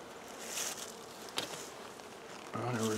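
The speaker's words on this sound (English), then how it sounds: "there was a bees trapped up in here" Bees buzz around a robbed-out hive colony, a faint continuous drone with a brief sharper buzz passing close midway and a louder hum near the end.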